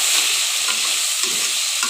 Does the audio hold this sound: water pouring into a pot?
no